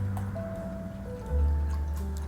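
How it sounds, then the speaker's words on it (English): Ginger ale pours into a glass with a rising liquid fill and fizzing trickle, close and clear, the tone climbing as the glass fills, with no talking. "pour in some ginger ale."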